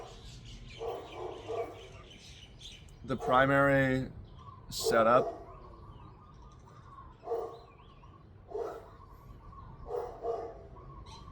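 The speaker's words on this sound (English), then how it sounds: "That's the neighbor's dog." A neighbor's dog barks in short bursts at a moderate distance, with several separate barks and yips spread out while someone talks nearby.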